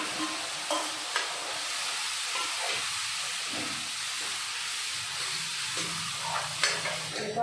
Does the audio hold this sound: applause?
no